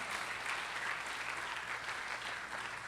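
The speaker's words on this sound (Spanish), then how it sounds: "dele un aplauso al Señor" A revival congregation in church applauds the Lord, a steady wash of many clapping hands that fills the room without a break, heard from a moderate distance.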